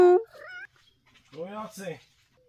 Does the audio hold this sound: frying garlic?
no